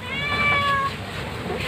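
A kitten gives a single drawn-out meow that starts the clip and fades after about a second, close and clear against a quiet room.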